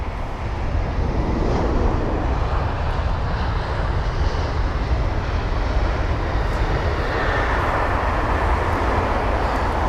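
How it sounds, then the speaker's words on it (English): A British Airways A320neo airliner arrives at London Heathrow, its broad engine roar rumbling steadily and loudly throughout with no break, no voices. "Got the BA A320 Neo,"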